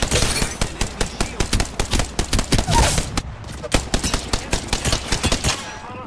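Rapid bursts of automatic gunfire in the Apex Legends video game, loud and continuous with short gaps, one long stream of shots followed by more volleys.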